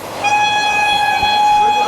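A passenger train on the Krishnanagar–Azimganj line sounds a loud, sustained horn as it nears the Nashipur rail bridge, one steady blast heard close by.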